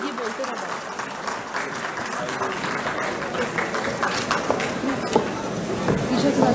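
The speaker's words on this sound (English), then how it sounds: "Let's give a huge round of applause for ma'am." Applause ripples through the audience at a pharmaceutical conference, a steady patter of many hands clapping that builds slightly toward the end, with faint chatter mixed underneath.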